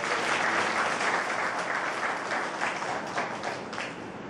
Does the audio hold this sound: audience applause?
yes